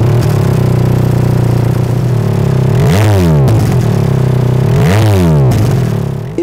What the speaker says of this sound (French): du pot d'origine. Démarrage.